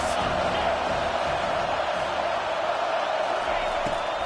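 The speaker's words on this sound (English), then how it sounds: "this crowd is tearing the lid off this place" Loud, dense roar of a football stadium crowd cheering on a third down during a Notre Dame Fighting Irish game, a steady wall of noise with no breaks across the whole stretch.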